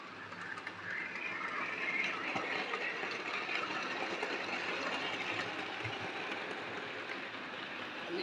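Class 5 railway locomotive running past, a steady, faint rumble and clatter of the engine and wheels throughout.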